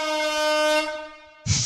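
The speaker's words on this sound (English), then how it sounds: "Air horns, okay." Air horns blare in the video game Corpse Party 2U, a long sustained harmonic blast that fades out, followed by a sharp burst of noise at the end.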